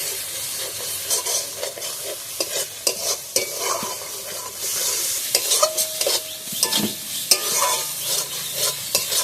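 A spice paste with turmeric fries in a pan for egg curry, with a loud, near sizzle under repeated scraping and knocking strokes of a spatula in an uneven rhythm.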